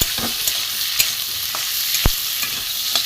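Potatoes fry over raised gas in a pan with browned onion while being stirred, giving a close, busy sizzle with scraping strokes and one sharp knock near the end.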